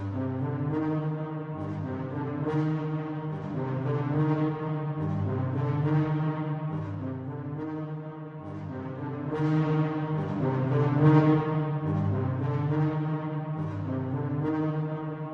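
A brass ensemble plays sustained, swelling chords with compression applied, its levels held fairly even as phrases rise and fall, heard alone and close without any talking.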